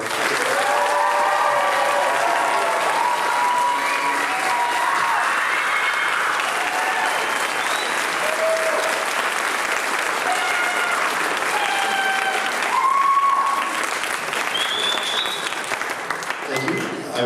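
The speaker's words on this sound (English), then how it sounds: "Can I then ask the audience one more round of applause?" A convocation ceremony audience applauds continuously in a full, dense wash of clapping, with voices and some cheering mixed into the ongoing applause throughout.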